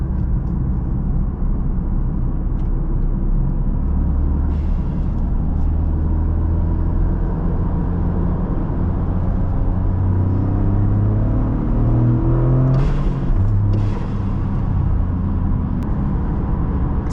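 A Toyota GR Corolla engine drones with a low, steady rumble while driving on the road, the pitch rising and falling as the revs climb and settle, heard from inside the cabin without talk.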